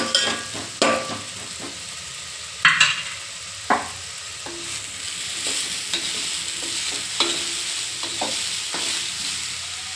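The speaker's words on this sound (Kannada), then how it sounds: "ಇವಾಗ ಇದನ್ನು ಮಿಕ್ಸ್ ಮಾಡೋಣ ಗ್ಯಾಸ್ ಲೋ ಫ್ಲೇಮಲ್ಲೇ ಇರಲಿ" Bitter gourd stir-fry being stirred in a pan on a low flame: a soft continuous sizzle broken by sharp, irregular scrapes and knocks of the spoon against the pan, close up and without voices.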